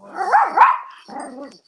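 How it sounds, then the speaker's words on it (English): A dog barks loudly and close by, two sharp yelping barks followed by a softer whining bark, with no talking over it. "Sorry, that's my dog."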